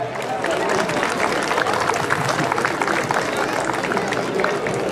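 Audience applause at a live Mexican music performance, a dense, steady patter of clapping with crowd noise that fills the full stretch without a break, loud and close, with voices mixed in.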